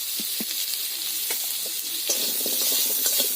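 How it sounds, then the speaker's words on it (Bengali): Potatoes frying in oil in a kadai with salt and a little turmeric, producing a bright continuous sizzle with occasional stirring knocks and scrapes, close up and steady. "কড়ার মধ্যে দিয়ে আলুটাকে বেশ ভালো করে ভেজে নেব"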